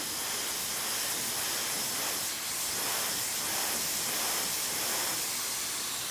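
A hair dryer blows steadily on hair during a blowout styled with Oribe Volumista spray, a continuous close, loud airy hiss that holds even for the whole stretch with no talking.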